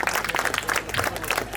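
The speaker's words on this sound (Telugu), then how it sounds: "అండ్ దాని తర్వాత గట్టిగా చప్పట్లు కొట్టండి." A crowd at a Ganesh immersion procession in Taj Pur village claps loudly and steadily, a dense wash of hand claps filling the whole moment.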